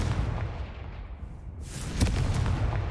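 Confringo fire spell in the Hogwarts Legacy video game, a loud explosive blast with a sharp boom and crackling burst over a rumbling game background.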